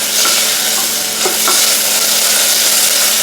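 Onions sautéing in a pot as the base for a one-pot vegan spaghetti bolognaise, a steady close sizzle and crackle with brief stirring scrapes around the middle, no voices.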